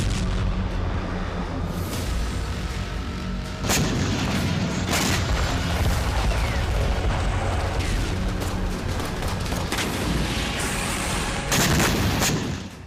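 Heavy, sustained rumbling booms and blasts from a Russian strike on a site in Khmelnytskyi, Ukraine, loud and continuous, with sharper bursts rising out of the roar at several points.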